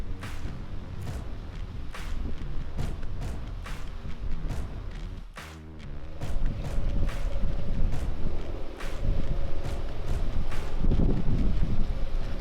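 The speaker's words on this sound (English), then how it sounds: "So it was so windy" Strong outdoor wind buffets the microphone during an Iowa deer hunt, a continuous loud low rumble that swells and gusts with no speech.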